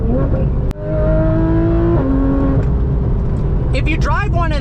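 A Porsche GT3 RS engine revs hard while driving, rising and falling through gear changes with a loud, high-pitched wail, close from inside the car, with sweeping rev climbs near the end.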